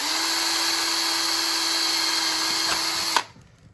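A power drill bores holes for pop rivets, a loud steady high-pitched whine running continuously up close before cutting off abruptly near the end, leaving faint residual noise.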